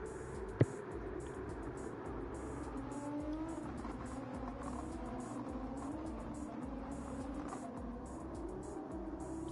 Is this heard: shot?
no